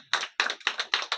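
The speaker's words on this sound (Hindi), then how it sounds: "ताली बजा सकते हैं, इसको कंजूस ताली बोलते हैं" An audience clapping softly and sparingly during a church sermon, a 'stingy clap' of about six light, evenly spaced claps heard up close with no voices.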